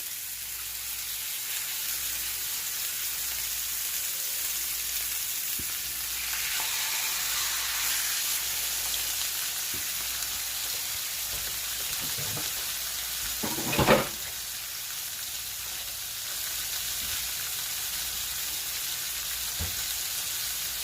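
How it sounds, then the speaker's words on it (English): Steady, close sizzling and crackling of chicken breasts frying in hot oil, with a brief louder sputter partway through. "we're just going to place our chicken breasts in there. And you want to hear that sizzle."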